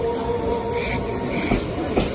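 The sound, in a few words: train arriving at station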